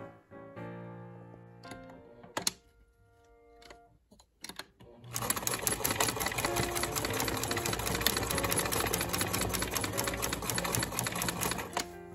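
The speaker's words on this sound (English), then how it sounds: "I'm actually going to come back to the sewing machine and just stitch this down right there to hold that secure." A sewing machine stitches fabric ends down on a grocery bag holder, first a few short bursts and clicks, then a fast, loud, continuous whirring run of stitches close by.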